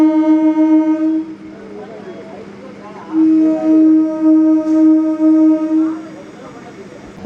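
MEMU train pulling out of Ontimitta station sounds its horn in two long tonal blasts, the second broken into a few pulses, over a low rolling rumble.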